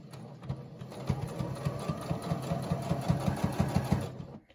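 A sewing machine stitches a fabric mask and back-stitches, a close, steady rapid mechanical whirring with a regular pulsing rhythm that stops abruptly at the end.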